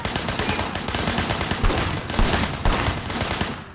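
Gunfire rattles in the video game Sleeping Dogs, with dense, continuous bursts of shots fired rapidly and loudly for several seconds, cutting off at the end.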